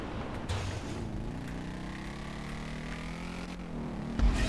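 A car engine in GTA V drones at a fairly low level and rises gradually in pitch as it accelerates, then cuts off abruptly near the end, with no voices over it.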